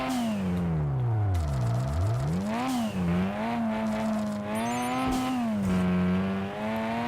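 Car engine and tires in the street racing game Kaido Racer, loud continuous engine whine dropping on a downshift then climbing and wavering through gear changes, with brief tire scrubs, close and steady throughout.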